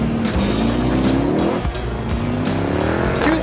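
A 2018 Jeep Grand Cherokee with a supercharged Hellcat V8 launches hard, its loud engine note rising in pitch through a gear change, with tire squeal and music mixed underneath.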